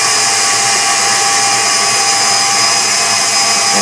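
An electric mixer whirs steadily and continuously, beating cheesecake batter with an extra egg yolk added, with a bright, even motor drone throughout.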